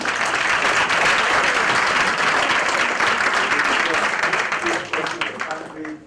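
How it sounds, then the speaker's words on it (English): Loud, dense audience applause for the president at a conversation event at Wits Business School, sustained and full before tapering off near the end. "let's give a round of applause to our president"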